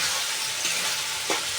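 Spicy sev tamatar curry frying in a pan while being stirred, a steady sizzle with a couple of soft scraping strokes of the spoon.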